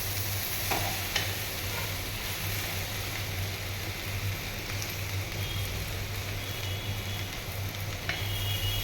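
Vegetable ghonto is stirred in a pan, with a steady close sizzle and frying hiss throughout and a few faint scrapes of the spoon against the pan.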